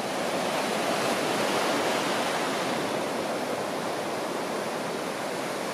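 Mild Pacific ocean waves wash onto a beach in Nayarit, Mexico, a steady, dense roar of surf with no clear breaks and no voices.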